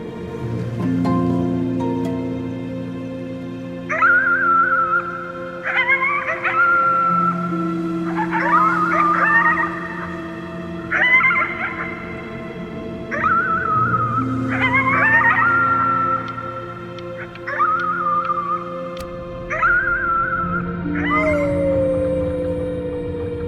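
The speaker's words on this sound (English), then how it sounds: "You howled at the moon, at the top of your lungs." A child in Before Your Eyes howls at the moon at the top of the lungs, a series of long rising, wavering howls repeated about eight times over soft sustained music.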